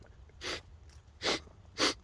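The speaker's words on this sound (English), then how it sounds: "I'm sorry, I'm sniffling a lot." Three short, sharp sniffs come in quick succession, close and isolated against quiet background.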